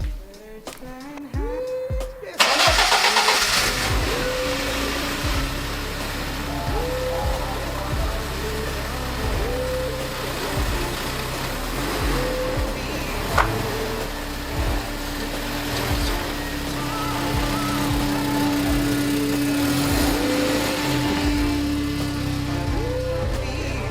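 A BMW E30 engine cranks in a few short bursts, then catches and settles into a steady, rough idle after sitting unused for eight years, running alone and fairly close throughout.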